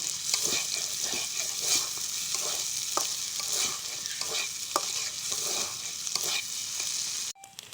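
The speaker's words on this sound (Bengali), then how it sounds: "এটাকে আমি উল্টে পাল্টে নেড়ে নেব" Egg with spices being stirred and fried in a pan for a noodle roll snack: steady close sizzling with repeated scraping stir strokes throughout, cutting off abruptly near the end.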